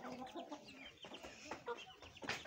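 Shamo hens clucking and scratching at scattered grain on the ground, a busy run of soft clucks and pecking scuffles close by, fairly faint.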